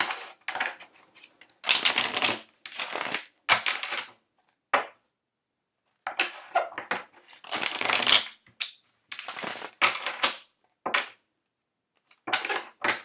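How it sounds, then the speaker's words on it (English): Tarot cards are shuffled by hand in quick, papery riffling bursts separated by short silences, close and crisp, with no talking. "as I shuffle the cards"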